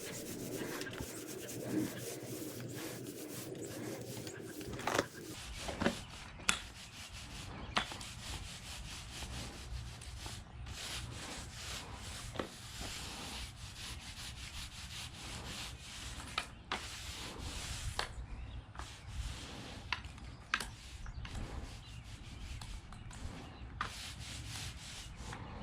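A paint roller back-rolls a sticky concrete overlay coat, making a close, continuous rubbing and rolling texture with scattered sharp clicks and scuffs and no talk.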